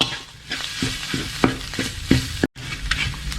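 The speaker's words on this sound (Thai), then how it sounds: "หอมกับกระเทียมซ้ำไปอีกนิดนึงนะฮะ ใช้เป็นไฟเบาเลี้ยงไปก่อนนะครับ" Shallots and garlic stir-fry in a pan over low heat, a steady soft sizzle broken by several distinct scraping strokes of the spatula and a brief cut near the end, with no voices.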